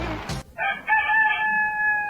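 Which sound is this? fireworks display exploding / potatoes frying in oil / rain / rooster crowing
rooster crowing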